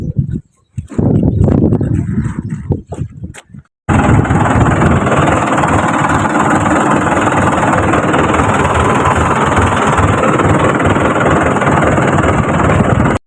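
A tractor engine idling close by, a steady loud rumble that starts abruptly after a few seconds of scattered rustling and knocks, with faint birds in the background.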